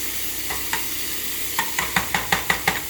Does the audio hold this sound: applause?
no